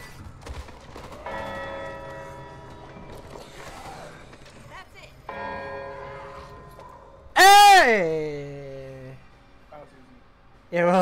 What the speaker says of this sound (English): Yo, this bell though.